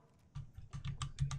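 Rapid clattering keystrokes on a new computer keyboard during PC gaming, a quick irregular burst of close, fairly soft clicks heard alone.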